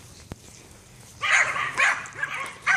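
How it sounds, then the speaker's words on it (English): Neighbor dogs bark outdoors in a yard, several fairly loud barks in bursts about half a second apart, with a sharp click before them. "I have neighbor dogs that are really annoying and bark too much"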